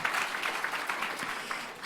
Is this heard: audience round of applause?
yes